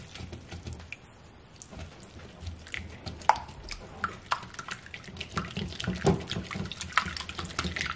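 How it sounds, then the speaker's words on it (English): A whisk beating French toast batter in a bowl: quick, irregular metallic clicks and sloshing taps at close range, growing busier and a little louder through the clip, with no talking. "You're gonna take your whisk and you want to whisk this together."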